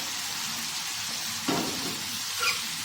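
Spiced liver masala frying on a tawa, a steady hissing sizzle throughout with a couple of brief louder crackles as the pan is stirred; no one speaks.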